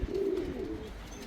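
A racing pigeon coos softly at the loft on return from a 350 km race, one short low murmuring call close by and faint, with no talking.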